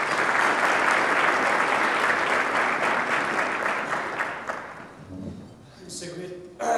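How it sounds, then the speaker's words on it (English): A crowd at an award ceremony claps steadily for several seconds, then the applause fades out and a voice begins speaking. "Let's give him a round of applause."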